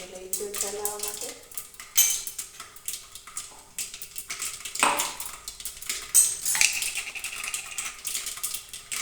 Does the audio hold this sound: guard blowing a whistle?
no